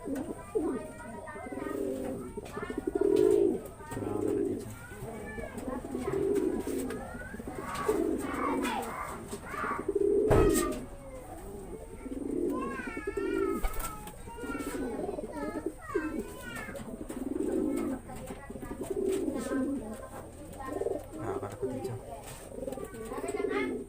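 Pigeons cooing at a racing pigeon loft in Natividad, Pangasinan, Philippines, with repeated soft throaty coos near and far among light chirps, while someone speaks over much of it.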